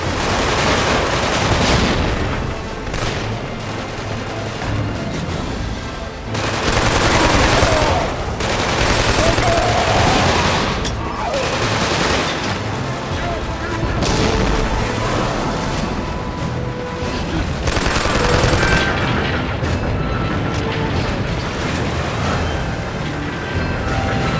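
Machine gun fire rattles in loud sustained bursts during a Killzone 2 battle, with dense gunshots, occasional booms and shouting voices mixed into the constant din of combat.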